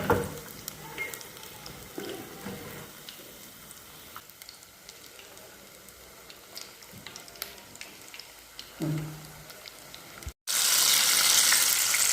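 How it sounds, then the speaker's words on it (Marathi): Vegetable nuggets of carrot and peas deep frying in oil in a handled kadai give a steady, close sizzle with occasional stirring clinks, ending in a loud burst of bubbling hiss near the end. "असे सगळे आपण नगेट्स तळून घ्यायचे आहेत"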